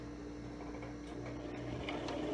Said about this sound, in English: I'm going to lower the needle and I'm going to stitch all around the fabric